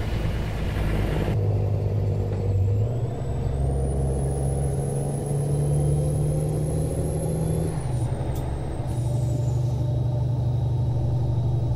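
Kenworth W900 truck engine in American Truck Simulator, a steady low diesel rumble with a rising whine and a brief air-brake hiss, continuous and close, no voices.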